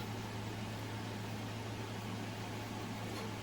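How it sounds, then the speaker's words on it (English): A pot of water with plantain in it boils steadily, giving a faint, continuous hiss and low hum with no distinct bubbling pops and no voices. "here is my plantain boiling in my pot"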